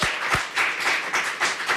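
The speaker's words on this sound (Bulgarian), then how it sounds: "Аплодисменти, уважаеми." A studio audience claps in a short burst of applause, with uneven, moderately close rhythmic hand claps rising and falling.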